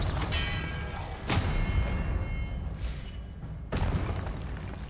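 Confringo blasting spells from Hogwarts Legacy burst as two sharp, booming explosions spaced a few seconds apart, each with a brief crackling tail over a steady rumbling game soundscape.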